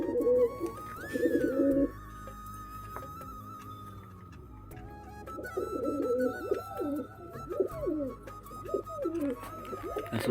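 Pigeons coo close by in soft, throaty, rolling phrases, one bout early and a longer run of repeated coos later, over a quiet room hum with faint ticking.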